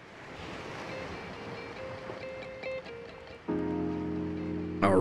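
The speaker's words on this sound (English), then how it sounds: "Alright, I hear the ocean." Ocean surf washing onto the shore of a small island in The Long Dark, a steady broad wash with wind, swelling louder toward the end, with no talking.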